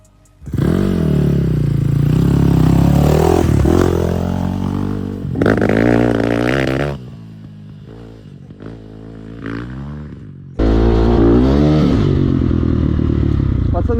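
A Geon GNX 2025 enduro motorcycle engine revs loudly and close, its pitch rising and falling, dropping back to a lower idle before roaring up again near the end.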